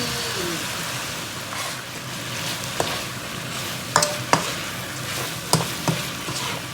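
Spicy chicken stir-frying in a hot pan, a steady loud sizzle with occasional sharp clinks of a utensil against the pan and no talking.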